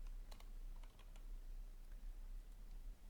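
Keys clack on a new computer keyboard in a handful of quick, light taps, clustered near the start and then scattered, faint and close against a low steady hum, with no speech.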